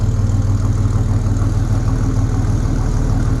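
A V6 truck engine fitted with a Dynomax exhaust idles close by, a steady, loud, throbbing low rumble with a fast, even pulse throughout and no talking.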